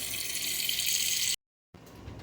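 Water runs steadily from a tap into a cooking pot, a loud, even hiss that cuts off abruptly, then resumes a moment later.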